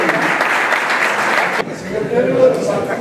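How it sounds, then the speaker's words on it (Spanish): A small audience at the 2013 Orden de los Inocentes ceremony in Valsequillo applauds, a dense burst of clapping that breaks off partway, followed by a voice speaking and a few scattered claps. "Aplauda con ganas que son pocos."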